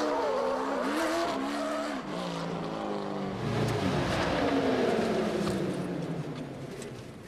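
A rally car, built for gravel and sand, drives hard on pavement with a loud, continuous engine roar that rises and falls through gear changes, with tire squeal and no talking.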